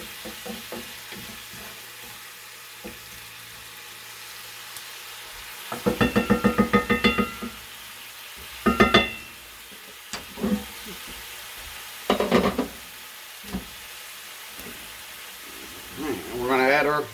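Onions coated in crushed black pepper sizzle and steam in a skillet, with several bursts of loud stirring and scraping over a soft frying hiss.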